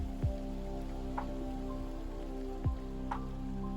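Steady Oregon rain in the rainy season patters on surfaces, with a few sharper drips landing close by over a low constant hum.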